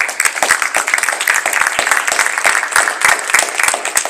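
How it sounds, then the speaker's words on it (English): Scattered applause from a small gathering at a clergy roundtable, individual hand claps close and distinct, rippling unevenly for a few seconds. "You give a round of applause."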